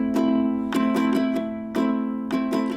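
A ukulele is strummed close up in a down, down, up, down, up pattern. Bright chords ring out in a repeating rhythmic cycle, and each strum gives a percussive attack before the notes sustain.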